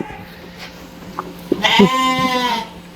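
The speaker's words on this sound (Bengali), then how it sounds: "অসংখ্য ছাগল আছে আর ছাগলগুলো দেখতে খুব সুন্দর" Goats on a goat farm in Malaysia bleat: a short call, then a louder, drawn-out wavering bleat close by over faint farmyard background, with no talking.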